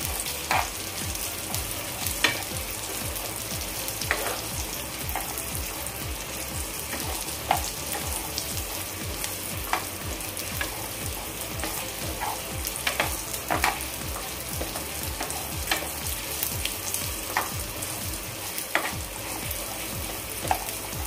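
Cashews and almonds frying in ghee, a continuous soft sizzle with regular light scrapes and taps of a spatula stirring the pan, close up and moderately loud, with no talking.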